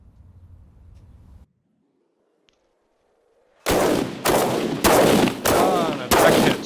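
Mortars fire in a combat flight simulator game: after a low engine hum and a pause, five loud, heavy launch thumps ring out in a steady sequence close by.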